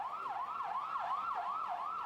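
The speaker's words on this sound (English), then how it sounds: "Streams of ambulances came to carry away the dead and the injured." An ambulance siren wails in a steady repeating up-and-down cycle, about five sweeps in two seconds, fairly faint and somewhat distant, with no voices.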